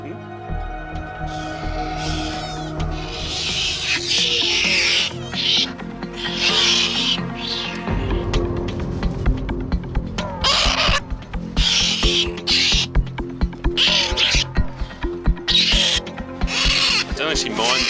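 Parent birds call repeatedly near a pontoon, sharp cries that come in bursts and grow denser over time, layered over a steady low background rumble.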